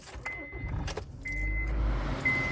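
Keys jingle as the engine of a 2003 Honda Civic with an air-conditioning fault starts. A low, steady idle rumble follows, close and moderately loud.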